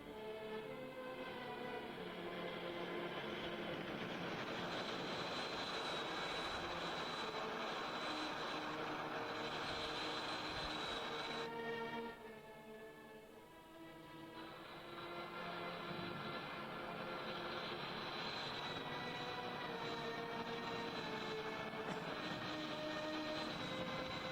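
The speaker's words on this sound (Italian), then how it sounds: "In moto turboreattori." Turbojet engines spool up on an aircraft, a loud, steady roaring whine with layered tones. It dips briefly about halfway through, then swells back to full strength with no voices.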